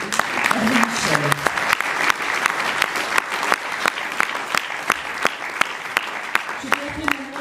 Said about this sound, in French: Merci d'applaudir Hervé Michel.